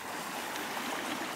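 A motorbike crossing a farm-trail river churns the water into a rushing, splashing wash, close and steady through the whole short moment with no voices.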